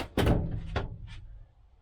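A glass shower door inside an Auto-Sleeper Broadway motorhome swings shut with one close, solid thud, followed by a short rattle and a faint knock as it settles, then quiet.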